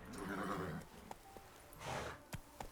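Roach, the horse in The Witcher 3: Wild Hunt, gives two close whinnying neighs with a pause between them, followed by a few short soft hoof knocks and snorts.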